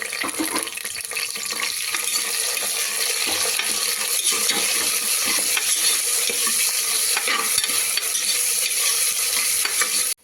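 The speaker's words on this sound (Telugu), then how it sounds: "2 ఉల్లిపాయ వేసేసుకొని మంచిగా ఫ్రై చేసుకోవాలండి." Onions and green chillies fry in a pan for methi mutton curry, giving a dense, constant sizzle. Steady stirring and scraping run under it until an abrupt stop.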